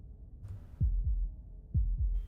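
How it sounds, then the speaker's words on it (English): Heartbeat from the Slay the Princess video game: two double thumps, low and heavy, each pair lub-dub, spaced about a second apart against quiet background. "That was the sound of a heartbeat,"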